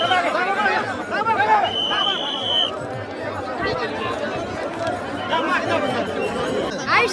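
A dense crowd at a Wari ringan ceremony keeps up a continuous, loud babble of overlapping voices close by, with a brief whistle-like tone in the middle.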